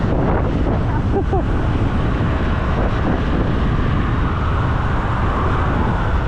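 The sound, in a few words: strong wind blowing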